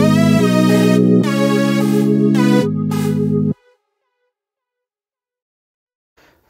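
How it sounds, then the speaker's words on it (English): A lead synth from the Purity plugin plays a short melodic pattern for an Afro-Amapiano beat in FL Studio, with a few bright, loud sustained notes that cut off after about three and a half seconds, leaving silence. "Next up, I'm gonna add a lead from Purity."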